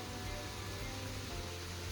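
Heavy rain pours at a farmhouse, a dense, even hiss of steady downpour filling the air without pause or voices.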